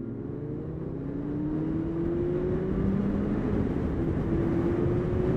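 A 2017 Kawasaki ZZR1400 motorcycle engine pulls hard in sixth gear, its drone rising steadily in pitch under rushing wind noise, continuous and moderately loud.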